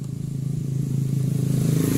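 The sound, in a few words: Yamaha motorcycle engine starting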